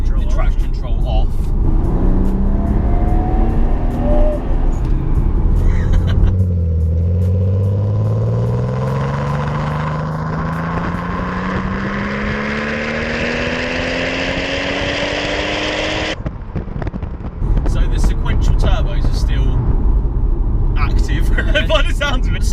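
A Toyota Supra MK4 with a twin-turbo engine pulls while driving, its rising engine note sweeping upward through the gears and dropping at a shift, loud and close, with people talking inside the car before and after.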